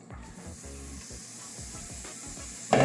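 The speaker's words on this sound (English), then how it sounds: "Then add your zucchini noodles" Zucchini noodles hitting a pan set on low heat give a soft, steady hiss close by, with faint clatter over it and a louder burst of sizzle right at the end.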